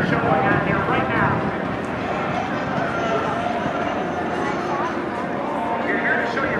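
An airplane engine drones overhead at the Battle Creek Field of Flight and Balloon Fest airshow, a steady background roar heard beneath close conversation.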